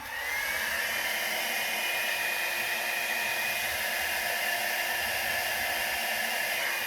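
A hair dryer blows steadily on poured acrylic paint for a background pour, a loud constant whooshing roar with a high motor whine, close and uninterrupted.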